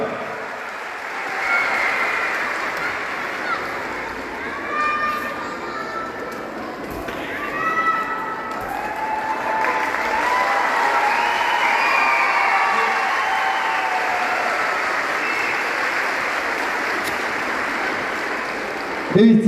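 Sustained crowd clapping with some cheering at a public gathering for women in Tosya, attended by the district governor and mayor. It swells steadily over the whole stretch, with voices mixed into the applause.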